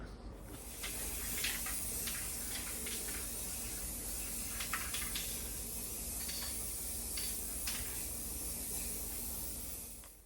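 A spray gun hisses steadily and loudly, laying a second coat of epoxy primer into the engine compartment of a 1972 VW Super Beetle, the airflow constant with brief spurts and trigger shifts.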